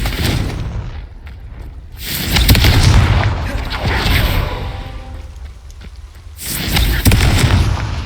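Confringo fire spells blasting in Hogwarts Legacy: loud booming explosions around 2.5 s and again near 7 s, with a rumbling roar and crackle filling the gaps under game ambience.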